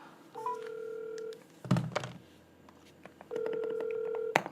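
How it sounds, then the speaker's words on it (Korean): Phone call being placed: two long sustained dialing tones with a short burst of clatter and noise between them, close and clear, followed by a sharp click at the end. "내가 지수한테 지금 전화해서 내가 지금 꼰대였는지 한번 확인해 볼게"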